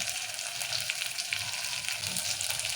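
Spices with turmeric sizzle and crackle steadily in hot oil for a lentil rasam, a dense, continuous close-up fry with faint stirring and no voices.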